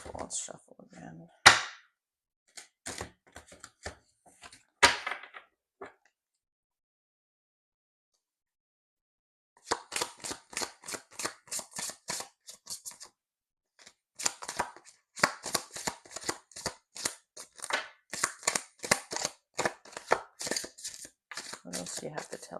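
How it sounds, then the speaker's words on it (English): Tarot cards are shuffled in quick bursts of crisp riffling and flicking, with a quiet pause partway through before the shuffling resumes more steadily. "Let's shuffle again."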